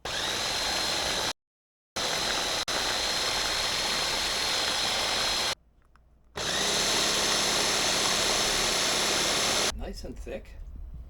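Blender whirling cannellini beans for a creamy Swiss chard, artichoke and cashew dip, loud close motor roar in long bursts separated by brief stops, ending in a rougher, uneven spin.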